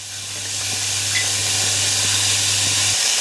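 A steady, bright sizzle and hiss of diced onions frying in olive oil in a pan, constant and close, with a low hum underneath.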